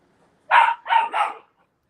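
Six-week-old Great Pyrenees puppies giving three quick, close yipping barks in a row, then silence.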